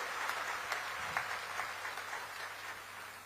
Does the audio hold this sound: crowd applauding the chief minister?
yes